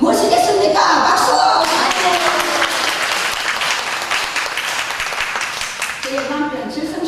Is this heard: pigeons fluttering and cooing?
no